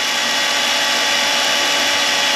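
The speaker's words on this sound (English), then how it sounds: "it's just drilling out the corrosion a bit so it can crack it off" Power drill grinding steadily into corroded bolt studs on an ERF EC truck under restoration, a continuous, loud, even whir with no pauses.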